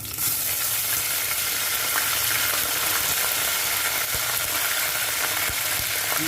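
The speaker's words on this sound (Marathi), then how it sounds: "त्यामध्ये आपण आलं लसूणची पेस्ट घालून घेऊया" Ginger-garlic paste hitting hot oil with reddened garlic in a pan, giving a dense, steady hiss and crackle that stays loud and close for several seconds with no voices.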